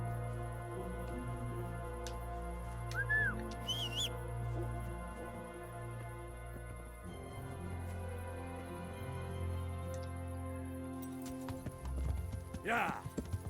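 Horse hooves clip-clopping in the medieval video game Kingdom Come: Deliverance, an irregular hoof rhythm over a low ambient hum, with occasional bird chirps and a dog nearby.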